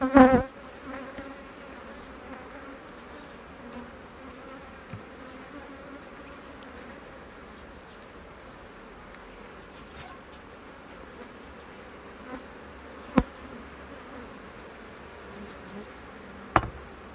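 Honeybees buzz around an opened hive during an inspection of frames, a low, steady drone throughout with a few sharp knocks and clicks from handling the equipment.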